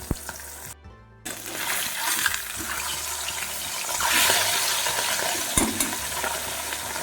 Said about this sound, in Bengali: আমি 4 পিস করে মাছ ভাজছি, উল্টে পাল্টে একটু ভেজে নেব